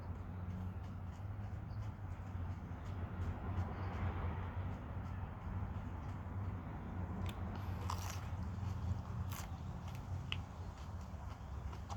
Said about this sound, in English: A lot of pepper to chew.